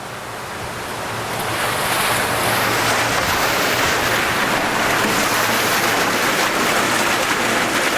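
A steady, loud rush of water drains out of a koi pond filter chamber, a broad turbulent roar that swells over the first two seconds and then holds constant, with no talking.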